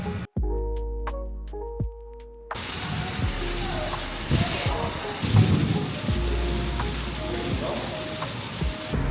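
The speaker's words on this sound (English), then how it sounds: "now it's raining" A few soft musical notes, then steady rain pours down continuously in Taipei, a dense hiss with occasional low rumbles.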